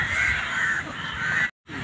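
Crows cawing outdoors on a cloudy rainy day in Malaysia, repeated harsh calls at moderate distance over a steady background, cut off abruptly near the end.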